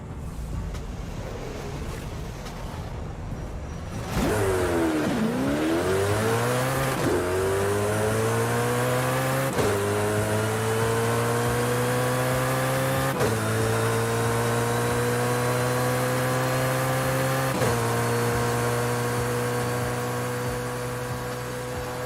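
A Koenigsegg Jesco in a Forza Horizon 5 drag race launches after a quiet start, its engine climbing steeply through several gears with clear shift breaks, loud and sustained to the end.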